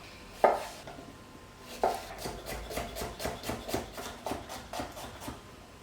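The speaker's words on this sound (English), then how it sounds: "1 tomato, finely chopped." A knife finely chops a tomato on a board for vegetable stock, two sharper strikes followed by a quick, steady run of close, crisp cuts.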